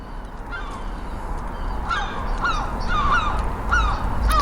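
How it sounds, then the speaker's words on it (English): Seagulls in Brighton call near a flying drone. Several sharp, repeated squawks and yelps start faint and become louder and more frequent, over a low background rumble. "Oh, to hell with these seagulls, man."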